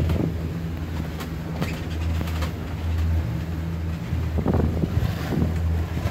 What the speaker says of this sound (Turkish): Dalgalar çok yüksek.